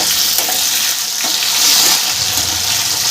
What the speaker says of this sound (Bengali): আলুটা যতক্ষণ ভাজা হয়